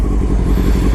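A Honda F4i motorcycle engine idles roughly below 1,000 rpm. The low rumble comes close and loud, with an uneven pulsing throb and no talk over it.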